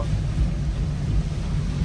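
Heavy rain and thunder on a highway make a steady, loud, low rumbling roar with dense rain noise throughout, with no voices.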